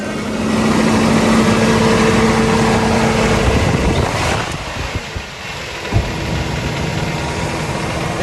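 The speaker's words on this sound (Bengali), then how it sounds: "ইঞ্জিনের সাউন্ড খুব ভালো আছে" A Toyota Noah engine idles just after starting, a loud, steady rumbling drone that dips briefly midway and then settles back into an even, continuous hum.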